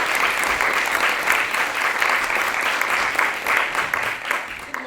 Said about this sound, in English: So please come forward, give them a round of applause.